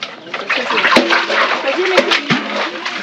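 Water is scooped and poured with splashing and sloshing up close, alongside birds cooing and a few sharp knocks, in a rural Madagascar setting.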